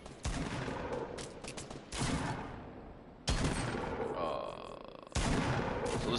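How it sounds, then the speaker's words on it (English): Repeated bursts of player gunfire in Fortnite during a 10-player battle, several loud volleys separated by brief gaps, with game background noise between them. "So this is me, you can see me shooting."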